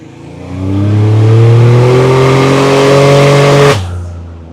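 A 1986 Buick Grand National turbo car accelerates hard, its engine rising in a loud, close, sustained roar that climbs in pitch before cutting off abruptly near the end.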